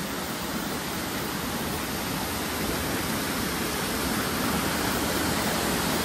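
Water pours down a waterfall in a natural setting at a tourist spot near Paralakhemundi, Gajapati, producing a loud, continuous broadband rush that holds steady throughout with no voices.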